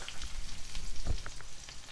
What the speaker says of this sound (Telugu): 1 స్పూను మినప్పప్పు, 1/2 స్పూను ఆవాలు, 1/2 స్పూన్ జీలకర్ర వేసుకొని ఇవన్నీ వేగనివ్వాలి.